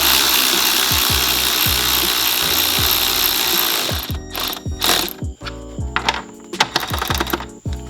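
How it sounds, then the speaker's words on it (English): Impact gun tightening an intake tube on a Toyota Supra, rapid loud rattling hammering for about four seconds, then several shorter bursts of ratcheting close by. "If you're gonna use the gun, you kinda like hold this part in place and then just let the rest of it tighten up to it."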